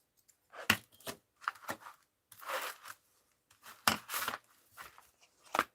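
Paper being trimmed with scissors for a mixed-media art journal, several short crisp snips and rustles in uneven bursts, close and fairly quiet, with no talk.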